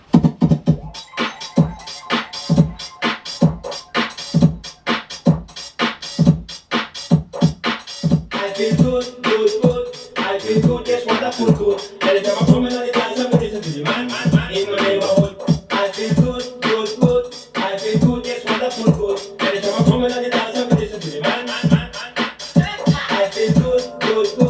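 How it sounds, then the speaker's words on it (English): A UK garage drum break at about 120 BPM plays alone, with punchy kicks and crisp snares and hats in a steady, driving groove that fills out with layered percussion partway through. "this is where I got the drums for this track"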